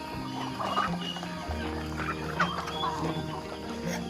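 Guinea fowl crowd around at a morning feeding on a Thai farm, giving overlapping clucks and chattering calls at moderate distance, a steady flock murmur with no one speaking.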